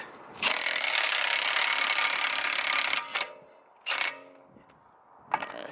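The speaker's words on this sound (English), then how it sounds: "This is the Milwaukee M18, and this is the boss." A Milwaukee M18 cordless impact wrench removes an axle nut on a Nissan 240SX S13: one long, loud hammering burst of about two and a half seconds, then short bursts, close and with no talk.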